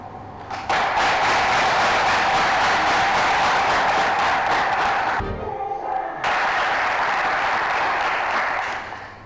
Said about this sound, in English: a big round of applause for the two schools